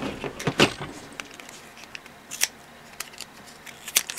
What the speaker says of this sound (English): now we will take scissors, cut that, and put it all together